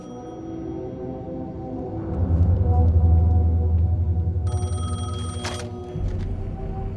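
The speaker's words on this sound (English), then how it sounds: "The phone was ringing." An old telephone rings inside the video game Alan Wake 2, a bright bell burst rising over a low, swelling ambient rumble, with faint background tones before and after.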